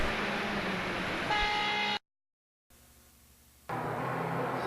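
Car horns honk at a three o'clock memorial moment in the USSR, held tones sounding in two stretches around a sudden cut to silence and a quieter section, with no talk over them.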